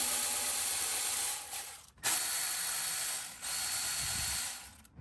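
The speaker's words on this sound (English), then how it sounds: "I'm gonna loosen them with my Milwaukee M12 ratchet" Milwaukee M12 cordless ratchet with a short extension and 10 mm socket loosening hose clamps on a first-generation 4Runner: loud, close whirring ratchet runs broken by brief pauses, three bursts in quick succession.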